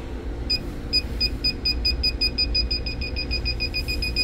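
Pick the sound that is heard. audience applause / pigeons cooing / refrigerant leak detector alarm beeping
refrigerant leak detector alarm beeping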